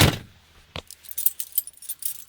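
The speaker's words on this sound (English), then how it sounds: "Get my key out." A bunch of car keys for a 1995 Toyota Tercel jangles and clinks close by, with a brief rattle, a short pause, then a run of light, bright metallic jingles.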